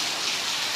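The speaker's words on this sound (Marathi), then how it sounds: "आणि आत्ता पाऊस पण पडतो आहे." Rain falling during flooding in a Konkan village makes a steady, dense hiss close by, with no voices over it.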